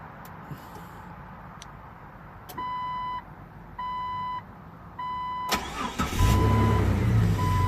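A 2000 Jeep Cherokee XJ with remote start fitted. A few quiet clicks come first, then three evenly spaced electronic beeps. The starter cranks and the engine catches into a loud, close idle near the end.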